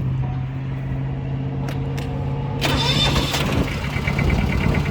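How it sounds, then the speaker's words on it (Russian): A two-cylinder diesel engine on an ISEKI Frontier 115 tracked mini grain combine idles with a low steady hum, then cranks and catches with a few sharp clicks, settling into a louder, even chugging run. "Двухцилиндровый дизельный двигатель у нас здесь, поэтому четко запустился, все хорошо, тихо работает."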